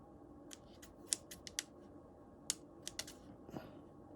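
Scissors trimming the excess edge of a polymer clay veneer, a quiet series of about ten crisp snips at an uneven rhythm, close up with no talking.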